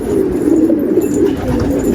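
A pigeon coos in a low, steady murmur, close by and continuous, with no talking.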